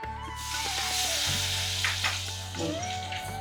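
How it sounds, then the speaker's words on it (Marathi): Garlic, green chili and curry leaves fry in a spoon and a half of hot oil tempered with mustard seeds, cumin, asafoetida and turmeric, giving a close, continuous crackling sizzle with no voices. "हिरवी मिरची आणि कढीपत्ता परतून घेणार आहोत."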